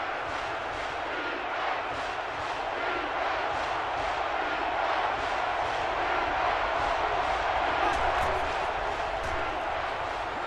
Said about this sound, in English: The crowd is deafening.